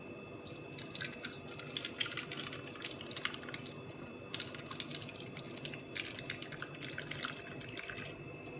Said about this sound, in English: To this I am adding water.